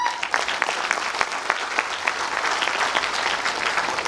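Sustained audience applause fills a motivational event honoring a young Universal Crown beauty title winner, dense steady clapping throughout with no voice over it.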